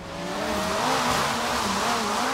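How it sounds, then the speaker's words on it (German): Ferrari California drifting around a corner in the Forza Horizon 3 racing game, with a loud, steady engine drone and tire squeal held throughout. "da drifte ich mal gekonnt um die Kurve"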